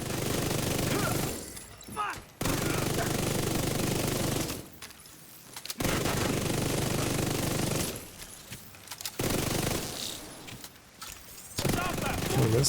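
Gunfire from allied soldiers in a video game street fight, heard as bursts of rapid shots in several stretches separated by brief quieter gaps, moderately loud throughout.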